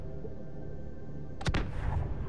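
A gunshot fired in the underwater game Subnautica: one sharp, loud broadband blast with a short decaying tail, standing out from a steady low ambient hum.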